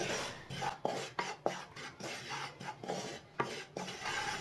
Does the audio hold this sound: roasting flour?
yes